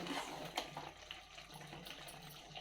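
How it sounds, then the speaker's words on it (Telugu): Water splashes and pours faintly into a pot of chicken pieces and tomatoes, with a few clinks and soft sizzling in the background. "ముక్కలు ఉడకడానికి కొన్ని వాటర్ వేస్తాం"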